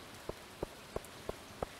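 Rainfall in the farming video game Stardew Valley, heard as a faint, quiet background with a soft tick or tap repeating about every third of a second.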